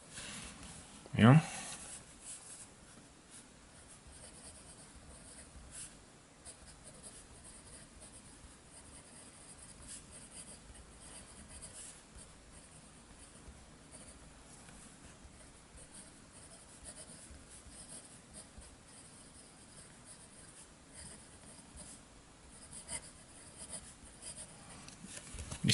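A Cross ATX pen scratches softly across Clairefontaine 90 gram paper, a faint, continuous close-up rubbing with a sharper tap near the start.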